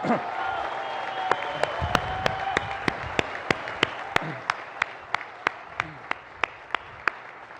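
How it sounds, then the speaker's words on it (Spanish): A crowd at a public event in Campeche on a milk self-sufficiency plan applauds for the former president, with a voice at first and a regular beat of sharp rhythmic claps over the wash of hands. "para quien pido un muy fuerte aplauso"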